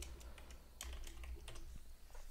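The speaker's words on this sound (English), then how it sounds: "let's again type in total cost." Quick, light keystrokes on a computer keyboard, a short irregular run of soft clicks close to the microphone over faint background hum.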